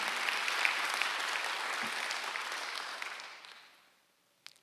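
A church congregation at a Sunday worship service applauds steadily at moderate distance, then fades out into near silence.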